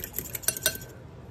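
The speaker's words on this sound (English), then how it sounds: "Just give it a little bit of a whisk." Brief clinks and scrapes of a utensil whisking egg into ground meat and panko in a bowl, a few quick metallic taps at close range, fairly quiet, with no talking.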